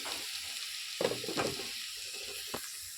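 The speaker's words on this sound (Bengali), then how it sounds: "এই যে সুন্দর করে আমার লাউটা ভাজা হয়ে গেছে" Bottle gourd fries in a pan on a home stove, a steady soft sizzle broken by a few sharp scraping clatters as it is stirred.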